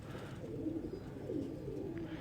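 A pigeon coos softly in a loft of tumbler pigeons, low rolling calls repeating faintly over a dull background hum.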